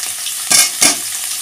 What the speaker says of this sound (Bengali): তো দেখো তেলটা গরম হয়ে গেছে আমার, এবার আমি আলু পেঁয়াজ কাঁচা লঙ্কা সব একেবারেই দিয়ে দেবো।